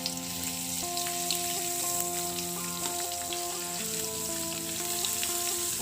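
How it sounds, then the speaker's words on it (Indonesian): Ground spice paste of pepper and candlenut sautéing in hot oil for a green bean dish, a constant crackling sizzle with light popping, heard alongside steady tonal music in the background. "Setelah panas, kita tumis bumbu halusnya terlebih dahulu ya, Bu."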